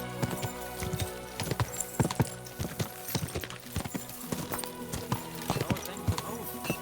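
Horse hooves clip-clop in a steady galloping rhythm in the medieval video game Kingdom Come: Deliverance II, close and prominent, with a few snorts and a layer of background game sound.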